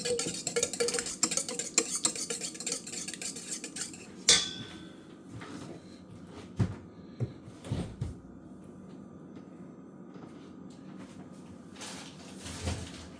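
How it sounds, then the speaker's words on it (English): Eggs are beaten in a bowl for pumpkin cake batter, producing rapid scraping whisk strokes against the bowl, followed by scattered clinks and knocks of utensils and dishes with quiet pauses between them. "Then I'm gonna beat my eggs."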